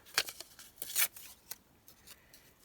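Scissors snipping paper for a junk journal page, several short close crisp cuts in quick bursts with a longer slicing cut, then fainter snips trailing off, no talking.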